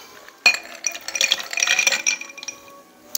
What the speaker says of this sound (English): Now what I'm gonna do is just add ice to our mixing glass.